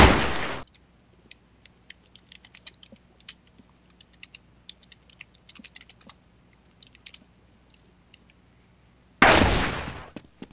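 Two loud, harsh bursts of gunfire in a ZP video game map open and close the stretch, with quiet keyboard clicking pattering in between.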